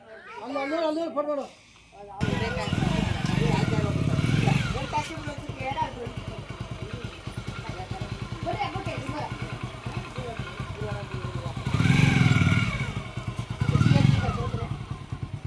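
A scooter engine running close by, a steady motor drone with louder surges, heard under continuous family chatter and voices.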